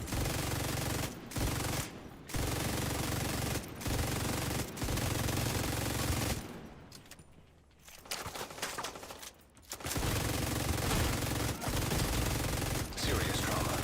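Automatic gunfire in a video game, long sustained bursts of rapid loud shots broken by brief pauses, with a quieter stretch in the middle.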